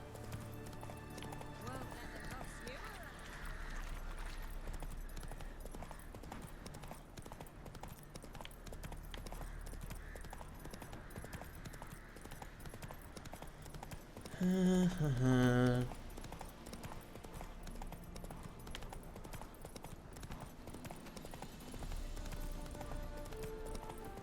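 Steady clip-clop of horse hooves trotting through The Witcher 3 game world, continuous and rhythmic, with a louder burst partway through and game sounds underneath.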